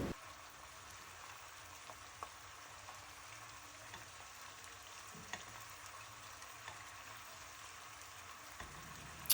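Beef meatballs sizzling in a pan over low heat: a soft, steady crackle and spatter with occasional small pops and light stirring clicks, quiet and close, with no voices.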